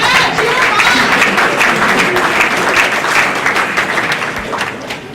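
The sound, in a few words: audience applauding faculty and staff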